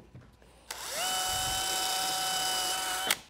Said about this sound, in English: get an old fitting brush that you can see it's worn down a little bit, cut the handle off, stick it into a drill motor.